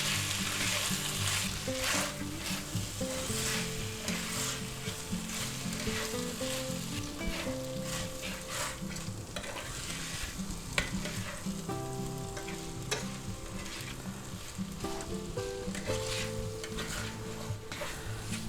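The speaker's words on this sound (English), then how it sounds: "put a little more oil in the pan. And let's fry our rice." Rice frying in oil in a pan for a spicy pork and vegetable fried rice, a loud continuous sizzle with frequent spatula scrapes and clicks throughout, close and unbroken, no voices.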